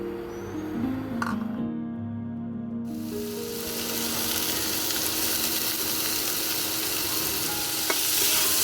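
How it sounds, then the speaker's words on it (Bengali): Cut potatoes fry in a pan for a ridge gourd and poppy seed dish. A loud, even, hissing sizzle takes over after a brief quieter start and runs steadily, with an occasional light clink. "আলুটা আমার আধ ভাজা হয়ে গেলে আমি ঝিঙেটা দেবো,"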